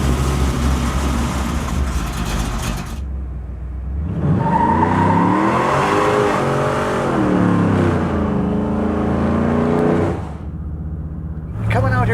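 A 1955 Buick Roadmaster engine revving up from idle and accelerating hard, a loud rising and falling roar held for several seconds before dropping back, with talk near the start.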